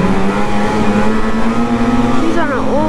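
An older snowmobile runs fast across bumps, its engine droning steadily with a rising pitch near the end, loud and close, while people talk over it.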